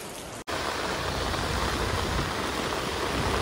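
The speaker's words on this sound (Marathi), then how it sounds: "वन साइड पाऊस कसं काय होतंय ते तुम्हाला दाखवतो" Heavy rain pours in a steady, loud, close hiss after a brief cut at the start, with no voices.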